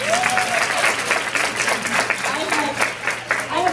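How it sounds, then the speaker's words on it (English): A conference audience gives Tony a round of applause, a dense, sustained clapping from a crowd, with a voice speaking over it. "Let's give a round of applause for Tony."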